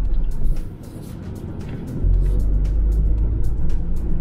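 A Ford Transit Custom Nugget camper van on the road: a steady low engine and tyre rumble heard from inside the cab, which swells noticeably partway through as it picks up pace. There is no talk over it.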